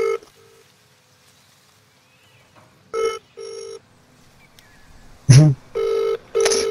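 Phone ringing in the Warzone video game: a repeated electronic ring in short bursts, two pairs of rings then a louder pair after a sharp hit, clear and near against a quiet background.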